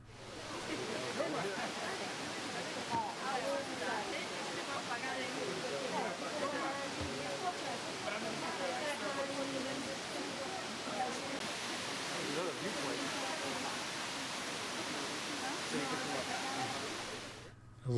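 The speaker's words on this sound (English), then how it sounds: "a video of a waterfall." A waterfall gives off a continuous, even rush of falling water, heard at a distance and fairly faint, holding steady for the whole stretch without any clear voices.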